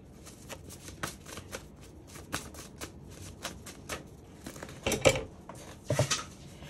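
Tarot cards shuffled by hand in a run of crisp riffling flicks and taps, near and fairly quiet, building to louder bursts toward the end.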